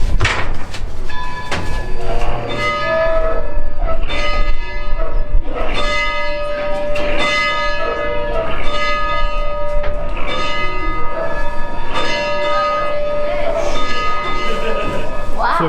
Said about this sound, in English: It rings the bell.